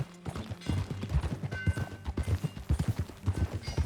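Horse hooves clip-clopping in a steady trotting rhythm while riding in Red Dead Redemption 2, close and fairly loud, with faint creaks of tack and a light mechanical clatter alongside.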